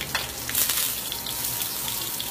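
Spaghetti squash latkes deep frying in hot oil, a steady loud hissing sizzle with crackling bursts, no talk.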